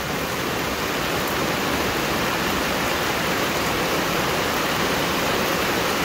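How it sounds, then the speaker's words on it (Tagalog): Floodwater rushing loudly and steadily in a flooded neighbourhood at dawn, a dense unbroken roar close by with no voices over it. "Ganito na yung baha dito sa amin."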